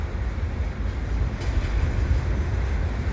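Eastbound CP container stack train hauled by rebuilt SD70ACU locomotives rolls past at Dorval in winter, a steady loud rumble of wheels and cars with a faint clickety rhythm.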